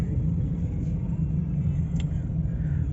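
A 2008 Skoda Roomster with a 1.4 MPI petrol engine and manual gearbox driving along, its steady low engine and road rumble filling the cabin evenly throughout.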